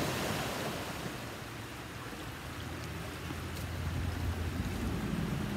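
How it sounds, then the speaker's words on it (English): A creek swollen into a rapid rushes with a steady, broad roar of churning water, loud and continuous with no voices over it. "now this creek has practically become a rapid"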